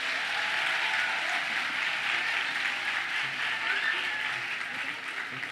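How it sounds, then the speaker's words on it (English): Steady applause from a crowd of first-year students at a university welcome ceremony, an even wash of clapping heard from a moderate distance throughout. "Give your round yourselves a round of applause."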